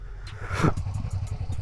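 Steady, low puttering of a 2003 Suzuki SV650 motorcycle engine ticking over at idle, close and even, with one brief rasp in the middle.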